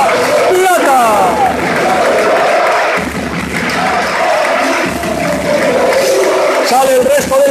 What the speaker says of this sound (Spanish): que con el apoyo del público, con el aplauso, recibo trofeo de subcampeón de la Copa Plata